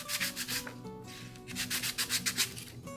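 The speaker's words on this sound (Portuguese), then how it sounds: "ou lixar esse pedacinho aqui, ó, para dar um acabamento melhor" Sandpaper rubs rhythmically against a small piece of a homemade ring cutter, close and clear, with quick back-and-forth strokes in short repeated bursts and no talking.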